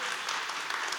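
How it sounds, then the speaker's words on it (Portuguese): Brief burst of audience applause at a culture and sustainability festival panel, an even, hissing wash of many hands clapping without a break. "uma salva de palmas aqui para esse trabalho tão lindo"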